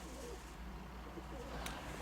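Soft cooing of pigeons, low and repetitive, heard faintly against a quiet background hum, with one brief sharper sound near the end.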